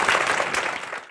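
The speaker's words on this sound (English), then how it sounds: "Could we have a round of applause for our volunteers?" A short burst of audience applause for the volunteers at a talk on EFT for trauma and PTSD, steady and fairly close, lasting about a second.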